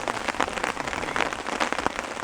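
Hail clatters and bounces off tents, gear and ground at a campsite during a canoe trip in Algonquin Park, a dense, close, continuous patter of sharp ticks with no voices.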